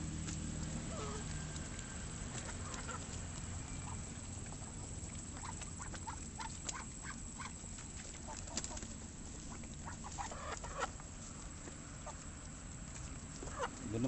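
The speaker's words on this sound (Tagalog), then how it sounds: "Doon naman sa mga manok na" Chickens on a farm make faint scattered clucks and pecking sounds over a constant low hum and busy background noise, with scattered small clicks and patter throughout.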